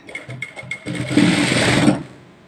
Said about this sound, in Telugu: ఇట్లా ఓపెన్ చేసేసి అనుగుడు కుట్టేసుకోవాలి